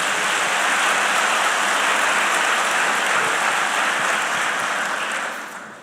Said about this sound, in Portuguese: Quantos crentes podem aplaudir Jesus em nome de Jesus?